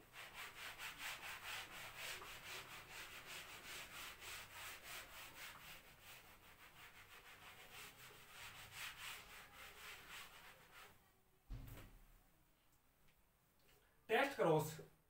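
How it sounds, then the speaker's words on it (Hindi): A board is rubbed clean with quick, rhythmic scrubbing strokes for about eleven seconds, close and soft, followed by a pause and a couple of sharper knocks near the end. "एक बार इसको रब कर देता हूं।"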